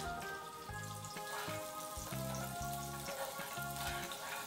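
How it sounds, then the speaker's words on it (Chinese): Bread frying in melted butter in a pan gives a steady close sizzle that fills the whole clip, with faint crackles running through it and no talking. "来吧，撒黄油煎我的小面包。"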